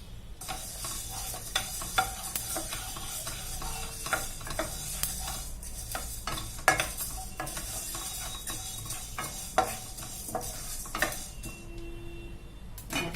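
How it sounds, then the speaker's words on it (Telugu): A ladle stirring jowar (sorghum) puffs as they roast in a pan, giving faint scraping and scattered light clicks and taps over a low, steady background, with no voices. "ఒకసారి గరిటెతో కలుపుతాం"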